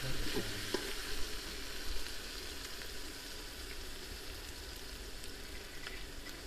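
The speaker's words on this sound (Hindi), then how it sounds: "इसको तकरीबन 4 से 5 मिनट और फ्राई करेंगे ताकि जो प्याज का कलर है ना वो अच्छा से ब्राउन हो जाए" Onion and garlic fry in a pan for chicken masala handi with a quiet, even, continuous sizzle, broken by a few faint stirring clicks early on.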